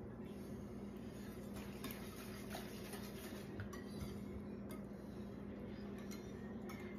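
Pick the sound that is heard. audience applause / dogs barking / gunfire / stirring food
stirring food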